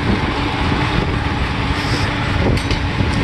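Tractor engine rumbling at a September tractor show and parade, a steady low mechanical drone with a brief brighter shift near the end, heard alone outdoors without talk.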